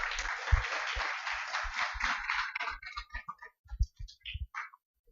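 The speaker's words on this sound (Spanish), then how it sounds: "Un fuerte aplauso, por favor." An audience at a formal lecture marking a digital electoral magazine's first anniversary breaks into dense applause that thins into scattered claps and fades out.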